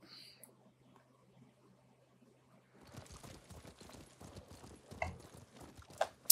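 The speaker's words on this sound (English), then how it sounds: "We're on the horse. Let's go, Sora." Horse hooves gallop in the video game Ghost of Tsushima, a quiet hum and faint game sounds giving way to rapid, rhythmic clip-clopping that stays soft and steady, with a couple of sharper clicks near the end.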